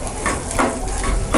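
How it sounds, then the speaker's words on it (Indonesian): Shallots sautéing in a pan, a brief close clatter of spatula scraping and stirring over a soft sizzle, about three scrapes in quick rhythm. "Ditumis sampai layu dan si bawangnya sampai kecium wangi."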